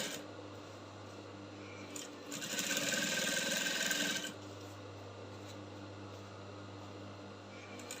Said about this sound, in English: So I'm going to sew now right on top of the lining.